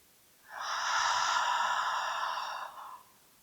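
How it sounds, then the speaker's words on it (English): One long, deep breath during a yoga class closing, a soft airy rush lasting about two and a half seconds, close and alone. "inhale deeply through your nose and exhale through your mouth"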